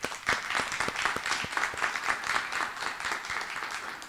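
Steady audience applause fills the room at an engineering scholarship competition, a dense, continuous patter of many hands clapping at even loudness with no voices over it.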